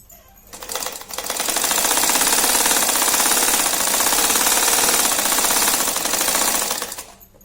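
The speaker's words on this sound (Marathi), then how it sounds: "तसंच या दुसऱ्या बाजूनं पण शिवून घ्यायचं." A sewing machine stitches along the side of a fabric coin pouch, a steady rapid mechanical whirr of needle strokes running loud and continuous for about six seconds before stopping.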